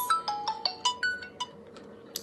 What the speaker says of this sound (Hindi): फ़ोन नहीं बजने देना चाहिए।